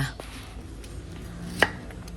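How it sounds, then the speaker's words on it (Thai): Knife chopping fresh galangal on a board for a spicy beef offal soup, one sharp close chop standing out over a steady background hiss. "จะแล้วเอาคามาหั่นจ้า"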